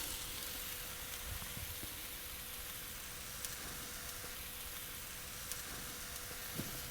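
Sweet curry sauce sizzling in a warm pan for a Thai peanut bowl, a steady soft hiss and crackle with occasional small pops, close and quiet, no talking over it.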